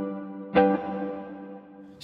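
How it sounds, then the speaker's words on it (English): Electric violin played through a Line 6 Helix with a clean, long-decay plate reverb and no delay: sustained harmonic tones with a bowed accent near the start, ringing on in a thick, smooth wash. "we're just getting a very clean plate style reverb from it"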